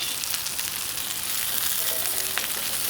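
Homemade köfte meatballs fry in a pan with a dense, loud, continuous sizzle and a few faint turning clicks.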